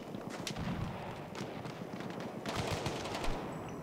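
Faint, rapid gunfire from a team deathmatch video game match where snipers trade shots, a dense stream of cracks over a steady background wash.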